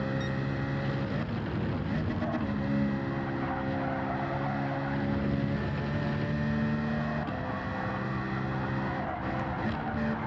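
Race car braking in the video game Gran Turismo 7: a loud, steady, close engine drone with strong harmonic tones that shift in pitch as the car slows. Faint tire scrub runs underneath throughout.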